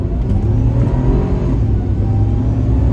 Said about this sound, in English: And now you can really hear the supercharger.